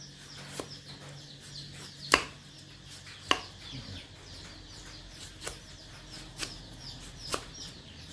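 Knife chopping vegetables for a Lao-Isan grilled lizard salad, a handful of sharp, separate thuds spaced a second or so apart, over a quiet outdoor background.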